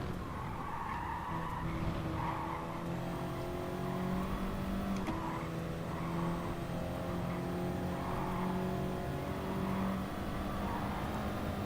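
Race car engine droning steadily in a racing game during an FIA Manufacturer Series session, with tyres squealing and skidding as the car weaves to warm them, a continuous mid-level roar with shifting pitch.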